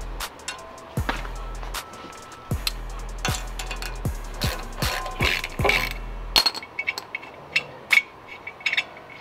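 A bolt threaded into a brake rotor is turned with a ratchet to push the rotor off the hub during a wheel bearing replacement, giving a series of close, sharp clicking strokes and metallic creaks that come in uneven bursts.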